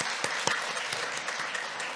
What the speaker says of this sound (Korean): 한 해 동안 수고해달라고 우리 격려의 박수 우리 해드리겠습니다